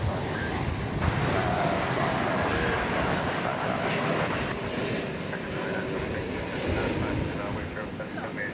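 A Boeing 787-9 Dreamliner arriving from Barcelona at DFW Airport gives off a steady, loud jet roar with broadband rush and some wind buffeting, sustained throughout with only slight swells in level.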